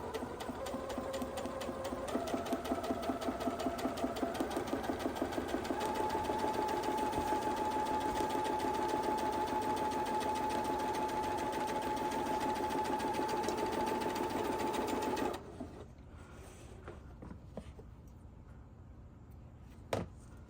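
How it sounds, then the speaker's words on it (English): A sewing machine stitches a straight line on an apron, running in a steady fast rhythmic whir for about fifteen seconds before stopping, followed by faint handling clicks. "I'm going to put down and just sew straight down, follow that line."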